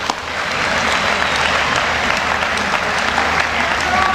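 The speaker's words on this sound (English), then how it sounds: "give yourselves a round of applause." A children's audience at an awards ceremony claps in sustained, dense applause, loud and close throughout.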